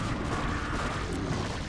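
Photon cannons in StarCraft: Brood War fire at lurkers on a ramp, a dense rumbling barrage of heavy blasts that overlap continuously and loudly with no clear gaps between them.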